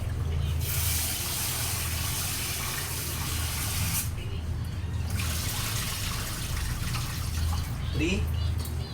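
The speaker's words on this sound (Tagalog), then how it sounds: "lalagyan na natin ng tubig" Water pours into a rice cooker pot in a steady, fairly loud rush of splashing and filling that runs almost continuously for about nine seconds, easing briefly twice.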